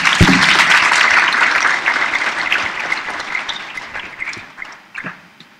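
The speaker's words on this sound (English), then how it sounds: "Please give him a round of applause" Audience applause greets a guest of honor at a Model UN opening ceremony in Tanzania, a loud dense burst of clapping that swells at once and then gradually thins and fades over several seconds.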